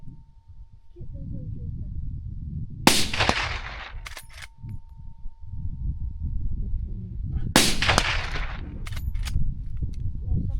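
Two loud, sharp rifle shots firing 170 grain bullets outdoors during a hike, spaced several seconds apart, each a sudden blast with a short echoing tail over steady wind noise.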